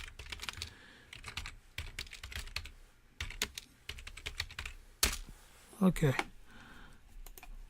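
Typing on a computer keyboard: bursts of quick key clicks with short pauses between them, close and clear, while a person speaks briefly partway through.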